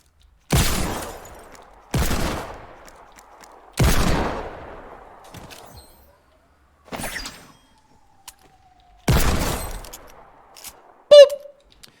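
Gunfire in the video game Fortnite: five loud, sharp shots spaced a couple of seconds apart, each with a ringing decay, followed by a softer report and a brief high-pitched game effect.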